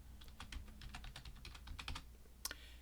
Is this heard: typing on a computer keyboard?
yes